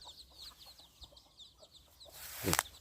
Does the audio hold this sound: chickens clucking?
yes